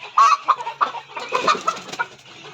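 Native hens brooding at their nests cluck in short, close bursts, several calls overlapping across a couple of seconds with no speech.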